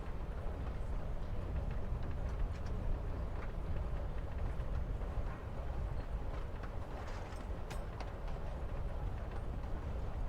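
Train ride ambience in Life is Strange: Before the Storm, a steady low rumble of carriage motion with soft irregular clacks and rattles throughout, even and fairly quiet with no talking.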